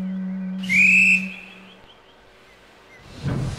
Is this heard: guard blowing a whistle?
yes